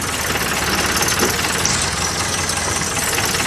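A 2004 Morbark Blizzard 12 wood chipper's engine runs loud and close, a steady rough mechanical drone with a knocking edge that holds without a break.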